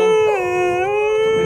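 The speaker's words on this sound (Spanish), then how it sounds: "les podríamos haber dedicado también algún aullido de Brava" A dog lets out a single loud, sustained howl that wavers slightly in pitch, close to the microphone with no talk over it.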